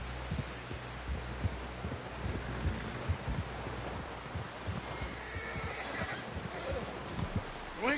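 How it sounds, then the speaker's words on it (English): Steady clopping hoofbeats with a faint whinny in the video game Red Dead Redemption 2, set against a busy, noisy background. "Someone help John down off this horse."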